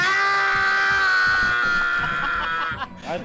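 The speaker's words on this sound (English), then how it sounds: "every time it falls over, it's going ow" A video game character cries out in pained screams, a loud sustained high wail with bright harmonics that breaks into shorter yelps near the end.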